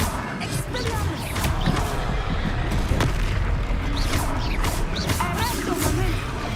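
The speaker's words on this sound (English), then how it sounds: "Expelliarmus." An Expelliarmus spell cast in Hogwarts Legacy amid combat: loud booming, crashing blasts and repeated sharp impacts, with voices speaking over the fighting.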